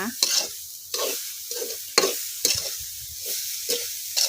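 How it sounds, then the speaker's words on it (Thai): Sweet filling with unbleached sugar being stir-fried in a pan, rhythmic scraping strokes of a spatula roughly every half second with a soft sizzle between them, close and fairly quiet. "คั่วต่อไปเรื่อยๆค่ะ"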